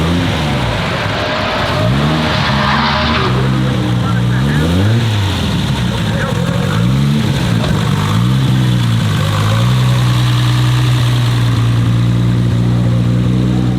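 A Nissan Skyline R31 fitted with an RB26 engine cranks, catches and revs in loud swelling blips before settling into a steady deep idle, recorded up close at a TX2K car event with people talking over it.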